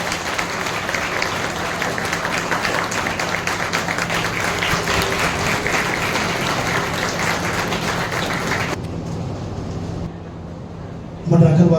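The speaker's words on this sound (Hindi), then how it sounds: "जोरदार ताली।" Sustained loud applause from an audience at a motivational speech event fills most of the stretch, then fades out near the end, where a voice briefly begins.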